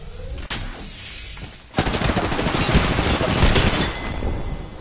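Rapid, dense gunfire in a video game shooter: a short burst, then sustained machine-gun fire that grows loud and close and continues to the end, with no talking over it.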